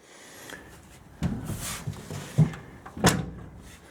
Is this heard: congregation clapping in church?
no